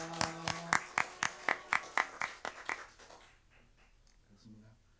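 A church congregation claps in thanks for their pastor on Teachers' Day Sunday, with about a dozen crisp, evenly spaced claps that fade away after three seconds into quiet room tone.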